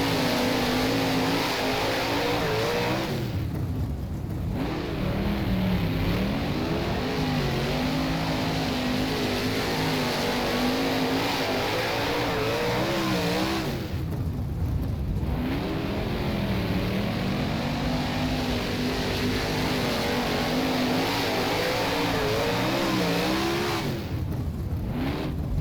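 Simulated 410 sprint car engine at Williams Grove dirt track in rFactor, a loud continuous race-engine roar with repeated revving and throttle lifts roughly every ten seconds as the car laps, no talking.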